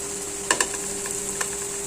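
Veg cutlets fry in hot oil with a steady, close sizzle, broken by a few small pops and light scraping knocks from stirring.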